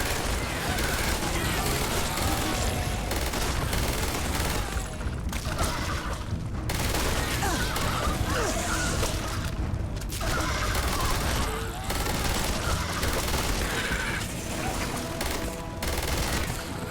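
Mag weapons in the video game Starfield fire in dense, sustained volleys of rapid shots with booming impacts, loud and continuous through most of the stretch, with a couple of brief pauses.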